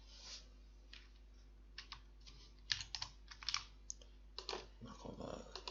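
Typing on a computer keyboard while working in ProjectLibre, quiet close-up key clicks coming in irregular bursts with brief pauses between them.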